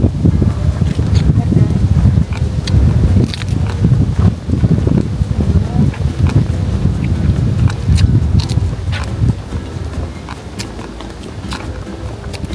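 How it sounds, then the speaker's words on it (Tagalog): Strong outdoor wind buffets the microphone in a continuous gusting roar, easing slightly toward the end, with people talking nearby. "Sobrang hangin, guys."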